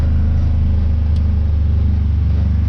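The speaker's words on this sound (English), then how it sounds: "probably just drive around the yard" A vehicle fitted with a new light bar idles and rolls around a yard, a loud, steady low engine rumble with a throbbing pulse, close by and with no talking.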